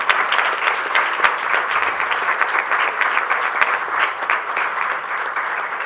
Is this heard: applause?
yes